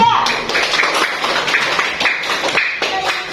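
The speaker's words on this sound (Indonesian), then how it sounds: "Tepuk tangan untuk kelompok 3." Classroom applause for a student group, a dense patter of claps from many hands running steadily throughout, fairly close and loud, with children's voices mixed in.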